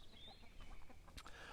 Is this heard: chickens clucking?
yes